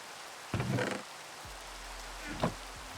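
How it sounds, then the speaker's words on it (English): Steady rain pattering in the Minecraft modpack Nomifactory, a soft continuous wash of falling drops with a couple of brief louder bursts over it. "I hate rain so much."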